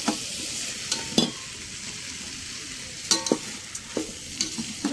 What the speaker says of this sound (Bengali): এবার আমি ভালোভাবে কষিয়ে নেব।